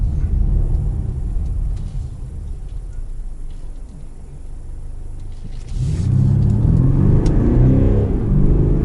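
A Mercedes-Benz GLC 220d diesel revs hard while accelerating on a rough winding road: a steady cabin drone builds into a louder, rising engine roar in the last few seconds, with no voices.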